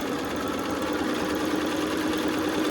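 A sewing machine stitching quilt fabric, a steady rapid mechanical hum and chatter running without pause at close range, alone with no speech.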